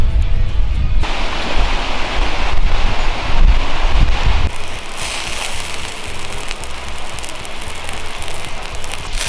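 Steady rain patters and hisses over a surface, heavier and rougher at first, then settling into an even, lighter wash of falling drops.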